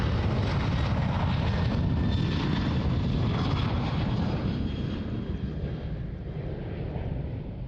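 An Airbus A330 airliner takes off at Sydney Airport, its engines giving a loud, broad jet roar that fades slightly as it moves away.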